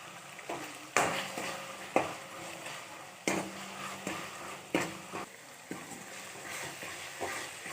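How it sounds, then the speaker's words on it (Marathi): Garlic and cumin paste added to browned onion, frying in a pan for a pigeon pea curry, a continuous sizzle broken by repeated spoon scrapes and knocks against the pan, roughly one each second, with no voices. "आता यामध्ये आपण टाकूया लसूण आणि जिऱ्याची पेस्ट।"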